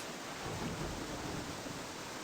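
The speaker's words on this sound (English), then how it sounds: "A bolt of lightning and the thunder. There we go. There's the rain." Steady thunderstorm roar and dense rain hiss fill a stormy scene in the survival game Escape the Pacific, a constant wash of noise with a low rumble beneath and no talking.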